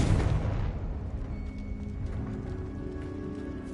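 A Confringo fire spell bursts in Hogwarts Legacy with a sharp, loud blast at the start, then a rumbling decay that fades into quieter game ambience over a few seconds.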